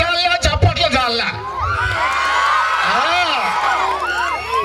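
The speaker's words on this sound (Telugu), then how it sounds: "కేక చాలా చప్పట్ల చాలా" A crowd at a high school's 23rd anniversary celebration in Petluru whoops, yells and cheers. Brief bursts of clapping open the clip, followed by rising and falling shouts and whistle-like cries. The sound is loud and sustained, with voices mixed in throughout.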